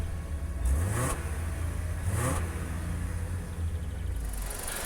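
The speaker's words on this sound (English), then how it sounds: "This is another test when to start the car." A warm car engine revs up twice in quick bursts, each rise climbing in pitch before dropping back to a steady, close idle rumble; no one speaks.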